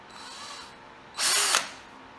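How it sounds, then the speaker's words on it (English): A power drill with a number 7 bit, about a fifth of an inch, bores a start hole in a short high whining burst of about half a second after a faint motor hum. "This is a number 7 drill bit, if you were wondering"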